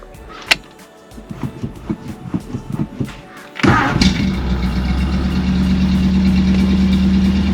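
A Ford F250 with a 352 engine cranks in a rapid rhythmic series of starter pulses, then fires and settles into a loud, steady, rumbling idle heard up close.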